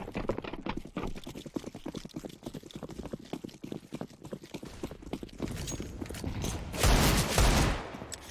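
Mac-10 submachine gun fire in Counter-Strike: Global Offensive during a competitive match, with dense rapid bursts of shots through most of the stretch, then a louder, brighter blast near the end.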